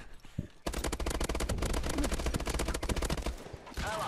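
Rapid, loud shotgun and automatic gunfire in Call of Duty: Advanced Warfare's EXO Survival mode, dense bursts of blasts nearly continuous for several seconds, with faint talk underneath.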